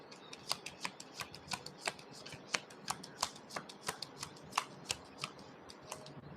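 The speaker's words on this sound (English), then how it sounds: "Shuffle for the collective." Tarot cards being shuffled by hand in steady rhythmic riffles, a string of crisp snapping bursts roughly twice a second, close and clear with no talking.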